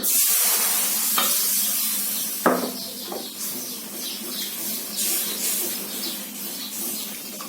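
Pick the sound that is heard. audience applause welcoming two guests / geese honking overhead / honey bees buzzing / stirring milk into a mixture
stirring milk into a mixture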